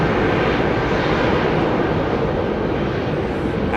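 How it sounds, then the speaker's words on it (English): Loud, steady roar of an airliner engine at London Heathrow Airport, continuous broadband rumble close by with no talk. "Very odd noise coming from the right-hand engine."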